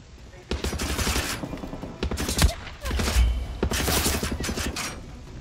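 Automatic gunfire in the Far Cry 6 video game, with loud rapid bursts of shots coming in several volleys with short gaps between them and faint speech underneath.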